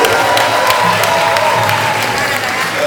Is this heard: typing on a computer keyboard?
no